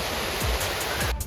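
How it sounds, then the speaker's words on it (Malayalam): Water flows down steps at NTR Garden in a loud, continuous rushing wash heard up close, with a couple of low thumping bumps underneath and no speech. "ഇവിടെ സ്റ്റെപ്പിൽ കൂടെ വെള്ളം വരുന്നു ഗൈസ്"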